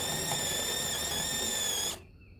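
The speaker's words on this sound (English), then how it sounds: "I'm just using a hole saw bit on this." A power drill with a hole saw whines steadily through a 2x4, a loud continuous high-pitched grind that stops abruptly, leaving a faint hum.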